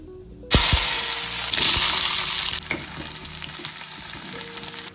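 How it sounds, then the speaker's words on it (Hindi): Tempering spices and curry leaves for sambar hit hot oil with a sudden loud sizzle that surges again after a second, then settles into a steady, softer crackle nearby. "मैं सांभर के लिए छोंक तैयार कर रही हूँ।"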